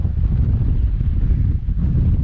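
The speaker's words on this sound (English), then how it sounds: "It's probably 20-mile-an-hour gusts." Wind gusting across the summit of Mount Adams (Pahto/Klickitat), a strong, continuous roar buffeting the microphone close up, with no voices.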